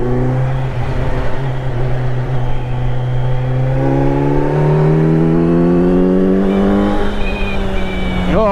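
A Kawasaki Z900 motorcycle engine pulls hard under acceleration, loud and close, its pitch rising steadily through the gears with wind rush behind it.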